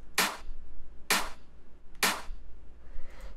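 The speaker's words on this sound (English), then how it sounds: "next thing that we have here is the clap, which is three layers, and it sounds like this" A fat, layered three-layer clap sample for UK bass production hits three times at an even pace, each a sharp, bright, loud burst with a short tail, followed by a faint fourth wash at the end.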